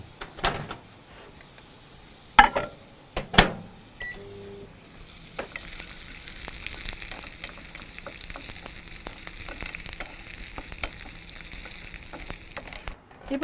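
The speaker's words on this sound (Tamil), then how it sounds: "இதை கண்டினியூஸாக இன்னும் கொஞ்சம் நேரம் மைக்ரோவேவ் பண்ணிடலாம்" A microwave oven hums steadily while mango pickle cooks inside, preceded by a few sharp button beeps and clicks as it starts, running at a moderate, constant level with a faint crackle.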